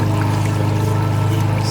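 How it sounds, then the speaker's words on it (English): Water from a garden water feature built with stone, boulders, foliage and moss trickles and pours steadily, a close continuous splashing flow with a low hum beneath. "this is what I was going for, just a slow drip"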